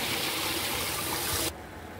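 Water splashes and swirls over old rice in a bowl as it is washed for chicken dum biryani, with a steady close rushing sound that suddenly drops off near the end.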